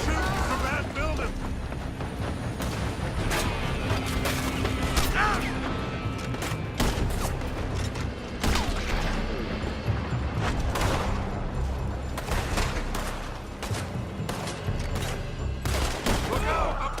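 Scattered gunfire in the Red Dead Redemption 2 video game, with sharp, irregular shots and bursts cracking at mid distance over a busy mix of game sound and voices.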